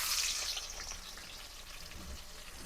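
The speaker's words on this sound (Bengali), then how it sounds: "এখন আমি পেঁয়াজগুলা দিয়ে দিব।" Onions hitting hot oil in a wok over a clay stove while beef is being cooked, giving a soft, steady sizzling hiss that is strongest at the start and then settles to a quieter fry, with no talking.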